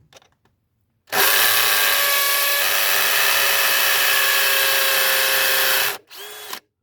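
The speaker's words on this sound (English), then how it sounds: "I'm going to drill this in and get the hammer drill, and I'm going to drill it in" A battery hammer drill whirs loudly and continuously for about five seconds while fitting a rat flap in a drain, stops, then gives a short second burst.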